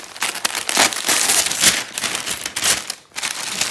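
A parcel holding a dress is torn open by hand, with close, loud crinkling and ripping of plastic packaging in quick irregular bursts and one brief pause near the end.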